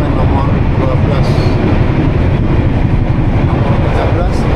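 Inside the Singasari economy train, a loud, constant rumble of the carriage running on rails fills the air, with steady low-end roar and faint mechanical rattles throughout.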